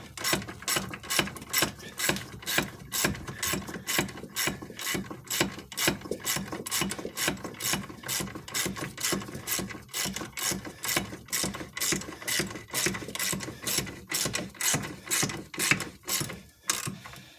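A wrench ratchets steadily on the fine-thread wheel hub bearing bolts of a 2005 Dodge Stratus RT, a close, loud, continuous run of rapid clicks with no pauses and no talk.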